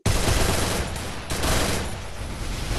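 Rapid automatic gunfire in the mobile game Free Fire, a dense, loud, continuous burst of shots close up, with no talk over it.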